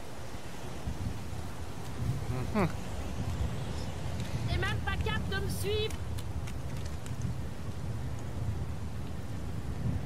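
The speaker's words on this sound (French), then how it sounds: "Il pleut des cordes." Steady heavy rain pours outdoors in the video game Heavy Rain, a constant broadband wash that runs unbroken through the whole scene while voices speak over it.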